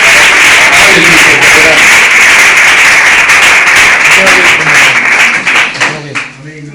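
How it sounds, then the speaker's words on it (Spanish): Congregation in a Spanish-language church service applauding, loud sustained clapping filling the room and tapering off at the end. "Un aplauso a Dios, por favor."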